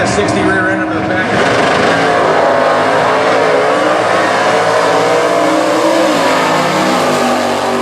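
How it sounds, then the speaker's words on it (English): 1966 Dodge Coronet drag car with a 426 cubic inch Hemi and Dana 60 rear end in Stock Eliminator racing, a loud roaring engine rising in revs as it launches, with an announcer talking over it. "That is a Dodge Coronet, 426 cubic inch, Hemi under the hood, Dana 60 rear end under the back."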